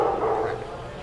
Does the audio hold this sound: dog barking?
yes